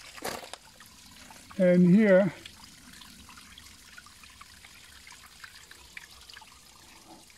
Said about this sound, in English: this is a little fountain